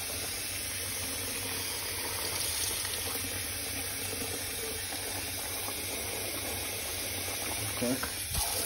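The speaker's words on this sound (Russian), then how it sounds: "Опять набираем воду." Tap water running steadily into a container to rinse salted trout roe, a constant broad hiss and splash that holds throughout, with a brief clatter near the end.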